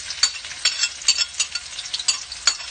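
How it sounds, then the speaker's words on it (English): Garlic and onions frying in cooking oil for a carbonara sauce, a steady crackling sizzle broken by regular stirring scrapes, close and fairly loud with no voices. "to fry in the cooking oil."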